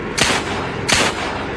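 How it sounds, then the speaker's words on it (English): Two loud gunshots in a staged crime reenactment of a murder-suicide, sharp broadband cracks about 0.7 seconds apart, each ringing briefly against a steady background. "Then puts gun to her head, pulls the trigger."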